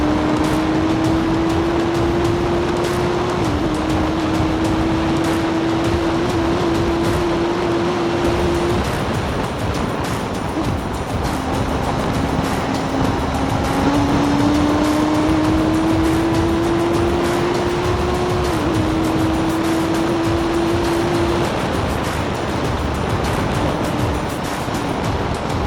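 Hill climb vehicle with a Hayabusa engine at Simola Hill Climb, loud continuous engine whine rising in pitch through several gear changes, heard steadily under heavy wind and crowd noise with no talk.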